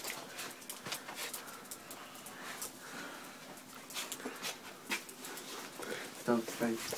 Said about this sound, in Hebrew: כלב חמוד